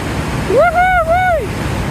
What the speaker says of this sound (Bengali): আর পানিটা অনেক ভায়োলেন্ট, খুব জোরে স্রোত আসছে।